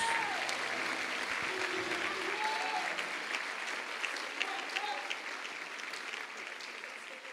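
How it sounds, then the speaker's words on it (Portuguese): A church congregation at a Pentecostal miracle crusade service applauds loudly for several seconds, a dense, steady wash of many hands clapping close by with faint voices mixed underneath. "Vamos aplaudir o Senhor Jesus bem forte."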